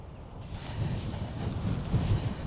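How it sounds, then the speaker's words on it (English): Strong wind gusts into the microphone on an open trail walk at Wimpole National Trust Estate, a steady low rushing buffet that grows a little louder and rougher over a couple of seconds, with no talking. "wind is strong here, blowing towards me"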